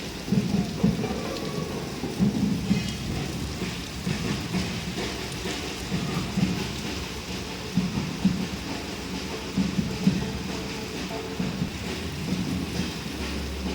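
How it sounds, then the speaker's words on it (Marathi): Heavy rain pours steadily and loudly throughout, with deep rolls of thunder rumbling underneath; no voices. "भरपूर भरपूर पाऊस आहे विजा पण भरपूर कडकडत आहे"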